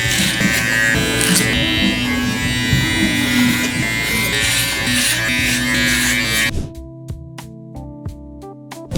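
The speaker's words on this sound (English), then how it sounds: "Now we're gonna clipper over comb the excess bulk right here on top of the 3-guard" An electric hair clipper fitted with a guard cuts hair clipper-over-comb during a taper fade. It gives a close, continuous buzzing hum with the cutting texture shifting as it moves, then cuts off abruptly and leaves a quieter background.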